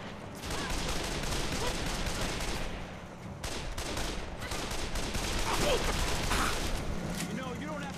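Automatic gunfire in the video game Call of Juarez: The Cartel rattles in dense, sustained bursts with a brief lull near the middle, loud and continuous throughout.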